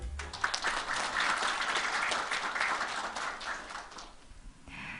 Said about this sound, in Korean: 오늘 설계대전을 축하하기 위해 참석해 주신 모든 분들께 다시 한번 큰 박수 부탁드립니다.